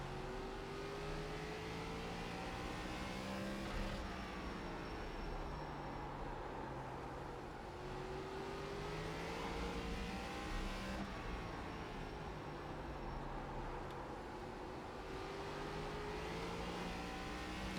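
An ARCA stock car in iRacing lapping Lanier, its engine droning steadily with rising and falling pitch through the corners, faint and continuous with no talk.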